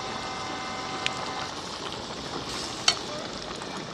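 Boti fry, tripe cooking in a pan, gives a steady close sizzle with a faint crackle, and two brief sharp clicks land near the start and middle.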